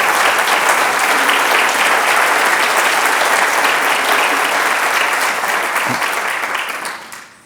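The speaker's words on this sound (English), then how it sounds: "Let's have a big round of applause" An outdoor audience at a Rochester garden party applauds loudly and steadily, a dense wash of many clapping hands that holds for several seconds before tapering off at the end.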